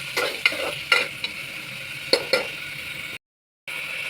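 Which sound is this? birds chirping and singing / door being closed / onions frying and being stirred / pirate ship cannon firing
onions frying and being stirred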